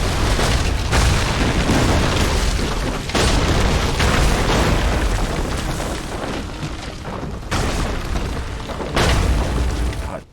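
Heavy cannon fire in the video game Assassin's Creed III, crossing Charlestown: loud, continuous booming blasts that overlap into a dense rumble, with short lulls near three and seven and a half seconds before the barrage swells again.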